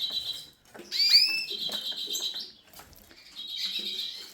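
Canaries in a birdroom give bright, close chirps and short sweeping tweets in two bursts separated by a brief pause, with faint rustling between them.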